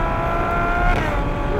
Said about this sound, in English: That glorious noise that you can only get from a naturally aspirated V12